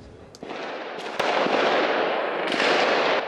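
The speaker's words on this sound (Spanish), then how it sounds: "Es el sonido de los tiroteos y las explosiones que esta noche se han registrado en los suburbios de París." Gunfire and explosions ring out during a night police raid in the Paris suburbs: a few sharp distant bangs and crackling bursts over a broad noisy rumble, moderately loud and unaccompanied by talk.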